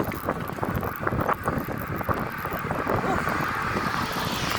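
A steady headwind buffets the microphone while bicycling along a Sanibel Island, Florida beach, a continuous rough low rumble and hiss throughout, with a faint rider's voice underneath.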